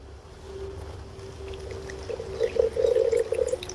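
Water poured onto 100 grams of ground coffee to make coffee kombucha, a low steady trickle that swells into a louder, bubbling splash toward the end, with no talking.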